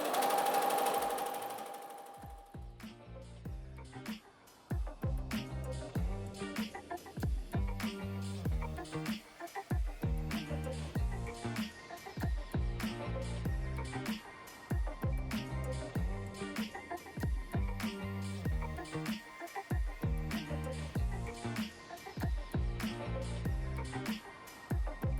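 A Halo X embroidery sewing machine stitching steadily, its needle hammering in a fast, even mechanical rhythm, close and continuous after a brief start-up, with no voices.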